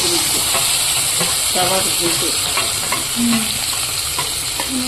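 Tomatoes frying in hot oil with dried red chillies, curry leaves and onions, producing a loud, dense, steady hiss and sizzle with faint stirring sounds throughout, close up.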